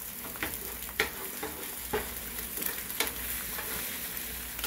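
An egg cooks in a pan for a bacon, egg, and cheese sandwich, giving a steady close sizzle broken by a few sharp spatula taps and scrapes, with no talking.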